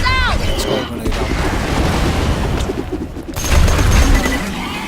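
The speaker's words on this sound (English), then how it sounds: "Let's go grenade out." Grenade explosions in the video game Borderlands 2, heavy booms and rumbling blasts amid gunfire and chaotic combat noise, with a louder low burst near the end.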